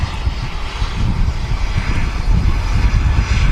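A passenger aircraft taxis out at Manchester Airport, its engines giving a loud, steady, close roar that holds without a break.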